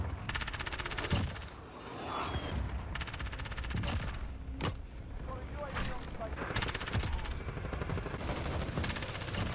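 MP7 submachine gun fire in a first-person shooter, with repeated short bursts and sharp shots spread across the span amid game ambience, some louder bursts standing out and faint voices underneath.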